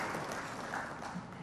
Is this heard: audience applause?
yes